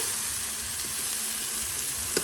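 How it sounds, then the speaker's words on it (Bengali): Spice paste cooking down in a pan on a new stove, a steady close sizzle and fry that holds evenly throughout, with one brief sharper crackle near the end. "সমস্ত মশলা দিয়ে এখানে এবার কষানো হচ্ছে"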